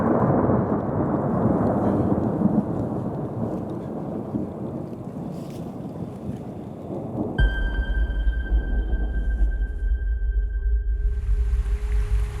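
Rumbling thunder rolls over steady rain for several seconds, followed by a deep low drone with faint tonal hum, loud and continuous with no voices.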